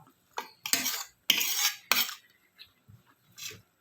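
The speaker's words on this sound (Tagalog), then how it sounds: "Kasi ang ginigisa kong alamang" Shrimp paste being sautéed and stirred in a pan, with a handful of separate metal utensil scrapes and clinks against the pan, some longer strokes and a few quieter taps, close and without talk.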